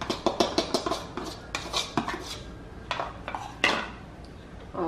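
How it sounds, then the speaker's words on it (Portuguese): A utensil scrapes and clinks rhythmically against a pan while stirring milk and cornstarch, fast clattering strokes, then slower scattered knocks. "vou mexer assim pra dissolver bem a maisena"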